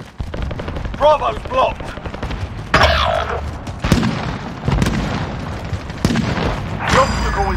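Gunfire and explosions from a Call of Duty Modern Warfare Warzone Payload match, with rapid automatic bursts and several heavy booms spread across the clip, loud and close, under game voice callouts.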